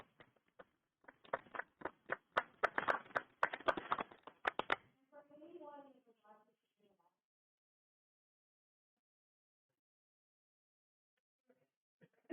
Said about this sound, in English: If we can give them a big round of applause for all they do